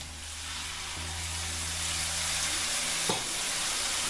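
100 grams of tomatoes go into a hot pan of aubergine and potato curry with chilies, raising a loud, even sizzle that swells and holds, with a brief stirring clink near the end.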